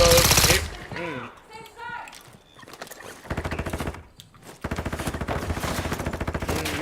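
Rapid automatic gunfire from several shooters crackles in dense bursts, mixed with shouting voices and a brief lull before sustained firing resumes loudly, with a Glock 9mm fitted with a switch among the weapons.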